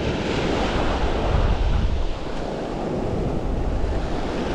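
Ocean surf washes onto a beach during surf fishing, a steady loud roar of breaking and receding waves mixed with gusty wind noise on the microphone, with no talking.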